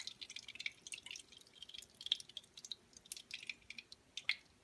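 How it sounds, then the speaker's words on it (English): Oil or liquid dripping and sizzling off a freshly fried potato taco lifted from the pan, a steady patter of small, close droplets and crackles with no talking. "Once it's made to your liking, then we can lift it up, drain it out"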